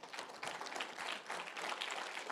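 A church congregation at a Sunday service claps in applause, a soft, somewhat distant patter of many hands that continues steadily without speech.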